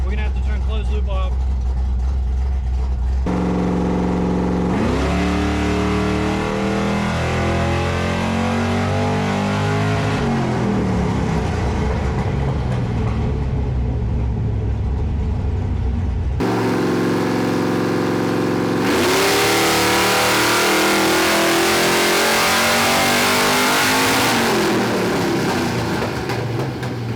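A Fox Body Mustang running a Holley Sniper revs hard on a dyno, the engine sweeping up and down through long loud pulls with abrupt cutoffs, and a voice talks over part of it.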